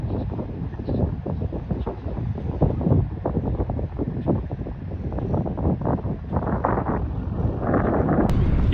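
Strong wind buffets the microphone in rough, gusty bursts while riding a cheap folding bicycle to work, a loud continuous low rumble with no speech.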